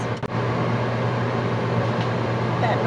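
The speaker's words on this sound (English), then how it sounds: "That noise you hear as we wait for the timer to go off is a fan above the stove that I have running." A stove range hood fan runs above a kitchen stove, a steady, loud whirring hum with a low drone that continues without change, broken only by a brief click near the start.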